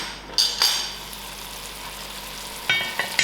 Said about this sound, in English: I'm going to put my lid to cover and I'll keep watching till it's fried out completely.